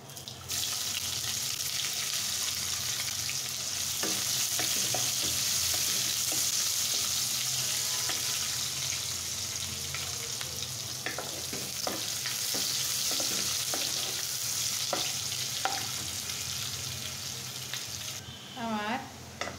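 Chopped onions frying in oil with cinnamon, cardamom and bay leaf for beef bhuna make a loud, continuous close-up sizzle, with scattered light stirring clicks and scrapes running through it.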